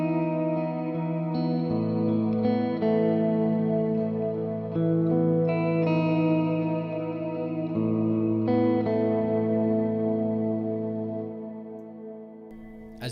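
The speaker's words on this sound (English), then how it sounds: "It's just a nice, super long trailed reverb. It's got some modulation to it as well." An electric guitar played through a long modulated reverb pedal for a worship pedalboard, sustained chords and notes blooming into shimmering, drawn-out trails that fade slowly.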